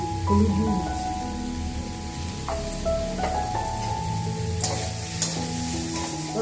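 Sem and potato curry spiced with coriander, cumin and turmeric sizzles steadily in a pan while a spoon stirs it, with scraping clinks and shifting crackle running close and continuous, no voices.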